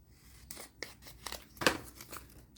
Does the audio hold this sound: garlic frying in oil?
no